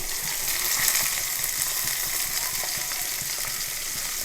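Garlic and onion sizzle in hot oil in a pan while being stirred, a steady close frying hiss with small scraping clicks throughout; no talking.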